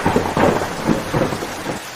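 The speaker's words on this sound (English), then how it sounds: "Imagine there was just a huge rainstorm." Heavy rainstorm with thunder, a steady loud hiss of rain with deep rumbling rolls of thunder swelling and fading throughout, no voices.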